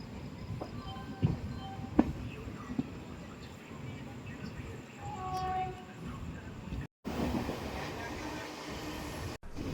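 Interior rumble of a MEMU passenger train running between Vijayawada and Rajahmundry, a steady broadband rattle with occasional clanks and a brief dropout near the end, with faint voices beneath.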